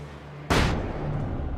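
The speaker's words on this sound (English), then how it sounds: "I have a ton of flashbangs. I may as well use them." A flashbang grenade goes off once in the Alan Wake video game, a sudden loud broadband bang that rings out briefly and leaves a steady hiss of game noise afterward.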